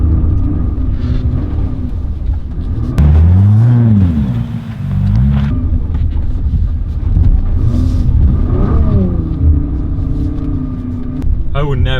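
2017 Nissan GTR engine rumbling loudly as it drives around a snowy car park, with revs rising and falling in swells, the engine drone steady throughout and a person talking over it.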